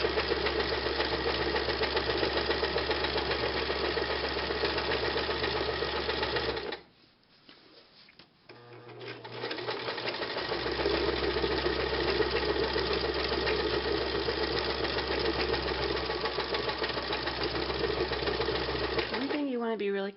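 A sewing machine free-motion quilting a stipple pattern runs with a dense steady mechanical whir and rapid stitching hum, stops briefly for a couple of seconds, then starts up again and runs on continuously.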